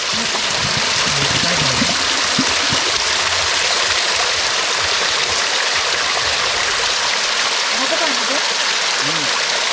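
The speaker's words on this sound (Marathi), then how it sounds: "ते पण वाहतं पाणी आहे" A flowing stream of cold, clean water near Dudhsagar rushes steadily and loudly throughout, close by, with faint voices in the background.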